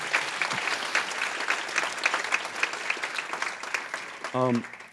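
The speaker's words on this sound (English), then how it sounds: "If we can give them a round of applause, it'd be wonderful." An audience at a Latino college-access benefit fundraiser gives a round of applause, steady dense clapping throughout at moderate volume, ending with a brief voice at the close.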